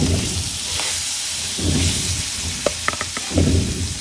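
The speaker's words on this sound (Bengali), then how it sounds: "মাছটা এখন দিলাম ভাজার জন্য।" Fish sizzling in hot oil in a home kitchen pan, a steady frying hiss with bursts of crackle and a few sharp pops, close and fairly loud throughout.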